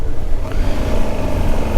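Adventure motorcycle riding out near the Croatian border in Slovenia, a loud, steady low engine drone with rumbling road and wind noise throughout, close and continuous with no talk.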